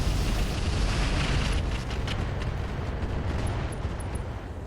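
Mech weapons fire a barrage in RogueTech, a loud, continuous rumble of overlapping blasts and booms that slowly tapers off over several seconds.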